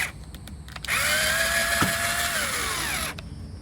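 A power drill drives screws into a school bus door during a skoolie door conversion: one close, loud whirring run of about two seconds whose pitch slowly falls as the screw tightens, then stops.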